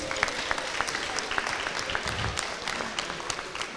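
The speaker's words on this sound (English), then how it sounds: "And clapping yourself for coming this evening." Audience applause fills a Brixton town hall meeting, a steady wash of many hands clapping at moderate volume for several seconds, with no speech over it.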